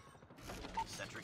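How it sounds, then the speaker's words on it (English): A sentry gun deploys in a Call of Duty match, giving a short, quiet mechanical whir with clicking and ratcheting underneath. A faint tonal beep follows it. "Sentry gun ready for deployment."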